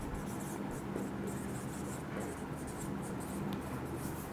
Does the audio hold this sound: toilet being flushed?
no